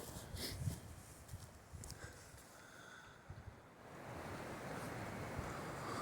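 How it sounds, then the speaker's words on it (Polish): A strong gale roars through swaying trees in the Międzyrzecz fortified area, a broad windy rush with gusts that swell louder toward the end, with no talking. "Nienaturalne jak na moje wichura. Drzewa, które się chwieją, jakby miały się za chwilę poprzewracać"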